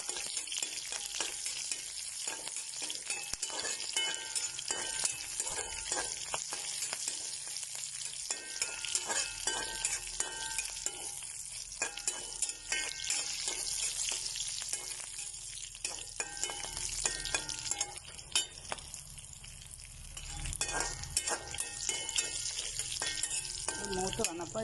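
Red chillies and chopped onion frying in oil in a pan, a steady loud crackling sizzle with stirring scrapes throughout, no voices.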